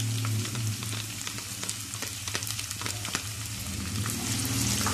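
Onions sizzle and crackle steadily in hot oil nearby, after garlic and ginger, while cooking dal mash, with scattered pops and a few stirring scrapes, and no voices.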